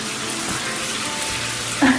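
Shower water streams steadily over baby ducks in a tub, a close, constant hiss of running water with a brief splashy surge near the end.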